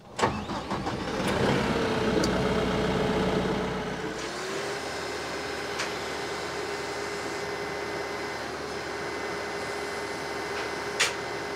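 A tractor engine with a hydraulic system cranks and fires up close by, running loud at first, then settling into a steady, even idle that carries on alone to the end.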